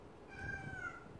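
Cat meowing in a drawn-out, rising and falling call lasting about half a second, fairly close and clear over a low room hum, with no talking during it.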